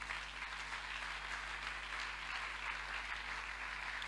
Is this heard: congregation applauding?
yes